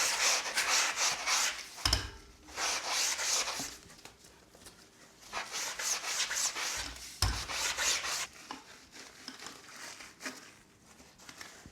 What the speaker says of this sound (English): Now we can just scrub the wheels a little bit.